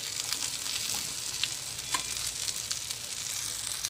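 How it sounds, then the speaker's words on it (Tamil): Grated coconut fries in a pan for a crab gravy with a soft, steady sizzle, close by and fairly quiet, broken by occasional light stirring scrapes and no voices. "தேங்காயும் ஃப்ரை ஆயிருச்சு"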